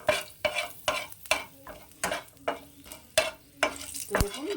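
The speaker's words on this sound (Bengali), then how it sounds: "মেথিটাকে খুব সুন্দর করে ভেজে নেব।" Fenugreek seeds sizzle in hot oil in a pan while a spoon stirs them in quick, regular strokes, about ten scrapes in a few seconds over a constant close fry.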